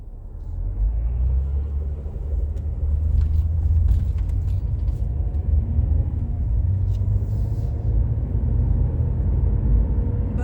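A vehicle passing on a snowy town street in Buffalo, Wyoming, heard from inside a car as a loud, steady engine and road rumble that holds throughout with no clear rise or fall.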